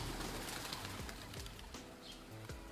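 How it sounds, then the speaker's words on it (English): Pigeons coo in low, repeated calls outdoors where birds are fed, with a few soft wing flaps over a steady background hiss and no voices. "they are watching birds here because we are also feeding pigeons"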